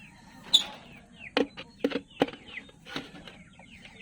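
Chickens penned up after fighting with other poultry, giving a series of sharp clucks and squawks in short bursts over low, steady background noise.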